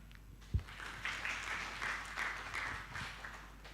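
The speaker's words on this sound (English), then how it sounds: "let us once again give the biggest applause here" Faint, thin applause from an audience at a cultural evening event, scattered clapping after a single sharp thump, distant and quiet.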